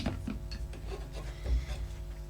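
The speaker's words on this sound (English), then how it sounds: "Then I can draw the piston assembly out." Metal piston assembly being slid out of the compression tube of a Relum Tornado air rifle, a close, continuous scraping rub with a few firmer grating pushes, no talk.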